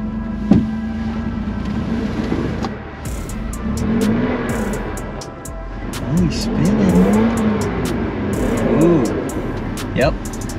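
A Toyota Tacoma crawls over an off-road obstacle with its lockers off and two wheels spinning. The engine revs rise and fall in bursts, with close voices talking throughout.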